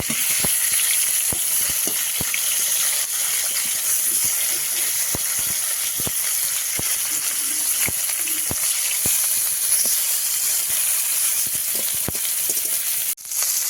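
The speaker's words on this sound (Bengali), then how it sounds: "পোনা মাছটা একটু সুন্দর করে ভেজে নিতে হবে কারণ ভালোভাবে মিষ্টি মাছ না ভাজলে ভালো লাগে না" Pieces of rohu (pona) fish fry in oil, giving a loud, continuous hiss broken by regular sharp spatters and pops every second or so, with no one talking.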